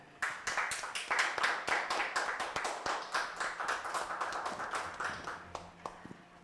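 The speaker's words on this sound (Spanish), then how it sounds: "Demos un fuerte aplauso al alumno Cruz Flores Jorge Adrián" Scattered clapping at a student diploma ceremony: a small group claps in distinct, separate hand strikes with an uneven rhythm that thins out toward the end, moderately quiet and close.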